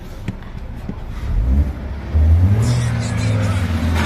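An Opel Vectra C engine idles, then revs up in two pushes, the second rise holding at a higher steady drone, heard close by without talking.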